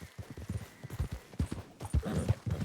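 Young horse in Red Dead Redemption 2 trots along, hooves clip-clopping in a quick, steady rhythm of close, distinct knocks.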